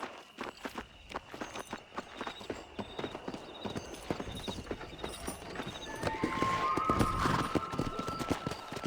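A horse galloping under its rider in the video game Red Dead Redemption, a rapid, steady hoof rhythm close up, with a rising rush of movement and a whinny-like squeal near the end.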